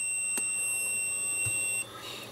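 A Sega Dreamcast gives a single steady high electronic beep at power on, held for nearly two seconds over a low hum before cutting off cleanly.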